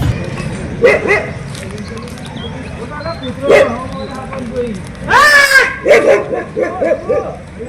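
A dog barks and yips several times, close by, with a loud burst of barking near the end, while people talk in the background.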